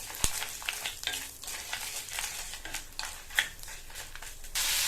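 Lentils and tamarind dry-roasting in a pan, giving a light crackle under repeated stirring scrapes and utensil taps, close and uneven, with a sharp clink near the start and no talking.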